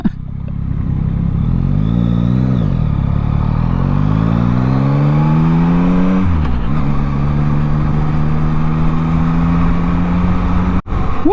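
A 2022 Yamaha MT-09 motorcycle ridden on the road, its engine loud and close, rising through gears in repeated revving climbs with shifts before settling into a steady drone.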